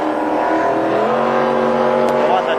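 A Cobra racing powerboat at a 1987 aquatic festival, its engine a loud, steady roar that holds a constant pitch with only slight wavering, heard alone and close.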